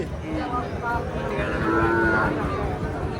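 Young calf at a busy cattle market, a close, drawn-out moo rising and holding over a dense background of crowd murmur and market bustle.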